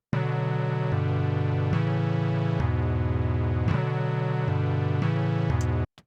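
WASM-4 chiptune music coded in C: a bright, buzzy square-wave melody over a steady bass line, moving through repeating chord changes in even bars, loud and clean, ending abruptly.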